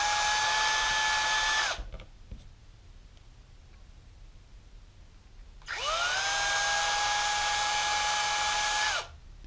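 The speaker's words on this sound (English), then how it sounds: "After we've drilled out the wheels" A power drill with a 1/16 inch bit bores out holes in 1/64 scale model car wheels, running in two steady high-pitched whirring bursts with a quiet pause between them, close and loud.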